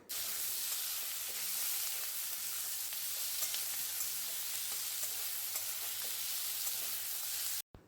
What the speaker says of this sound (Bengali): টমেটো কুচিগুলো যতক্ষণ পর্যন্ত না নরম হয় ততক্ষণ পর্যন্ত ভাজতে হবে